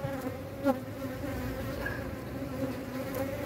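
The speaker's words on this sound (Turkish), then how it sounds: "Dediğim gibi arı agresifleşti." Dense buzzing of many bees fills the air, a steady, continuous drone close by with individual insects whining past.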